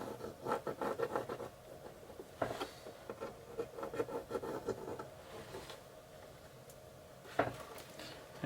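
A pencil draws over paper to trace a butterfly outline, giving soft, close scratchy strokes in short bursts with brief pauses between them.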